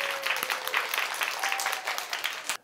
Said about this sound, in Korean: 이때 박수 치는 거예요.